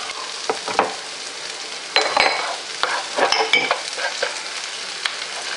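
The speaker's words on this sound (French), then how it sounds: "On fait revenir pendant 2 à 3 minutes." Spinach sautéing in a frying pan with garlic, a steady sizzle broken by bursts of stirring and utensil scraping against the pan, close and fairly loud, with no talking.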